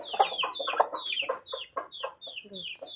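Backyard chickens cluck close by in quick, choppy bursts, several birds overlapping in a busy, uneven rhythm.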